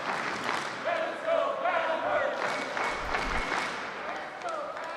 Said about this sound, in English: the chant from this raucous crowd.